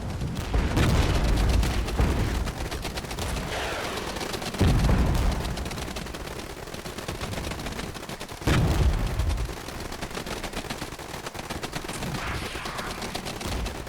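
Continuous battlefield gunfire and mortar fire in the Regiments war game, with dense rapid shots and heavy booms recurring every few seconds over a constant rumbling din.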